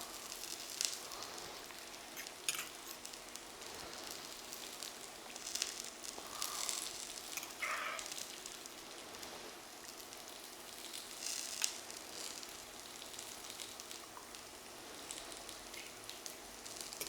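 Potatoes and spinach fry in a pan with a soft, continuous sizzle and crackle, fairly faint, with occasional small pops and no talking.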